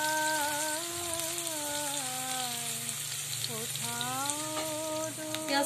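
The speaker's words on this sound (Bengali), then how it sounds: "পেঁয়াজটা সুন্দর ভাজা ভাজা হয়ে গেছে" Chopped onion fries in a pan with a soft, steady sizzle and crackle, under a droning tonal background hum that wavers in pitch throughout.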